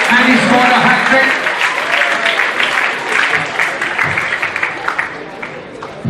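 Applause and crowd noise for the footballer of the tournament at a Singapore international football event, loud at first and then thinning out into scattered claps.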